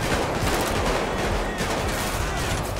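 Gunfire in the GTA 5 video game rattles in a rapid, loud, continuous barrage of shots that runs throughout the moment.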